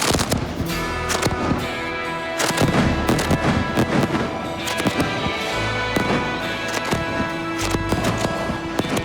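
Fireworks exploding in a dense, continuous barrage of loud crackles and booming bangs that overlap throughout, with sharp pops layered on deeper thuds.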